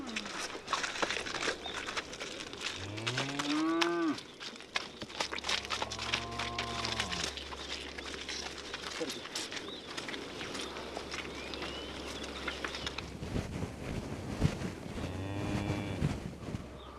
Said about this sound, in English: Chokpo's daughter and son-in-law mount horses to drive their herd to Shimu Tsuo.